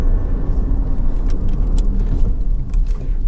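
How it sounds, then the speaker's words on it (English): A Honda CR-V 2.0 i-VTEC SE braking hard on the road, heard from inside the cabin as a steady, loud low rumble of engine and tyre noise throughout, with faint light rattles and no voices. "I'll just give the brakes a good old shove, make sure no one's directly behind me."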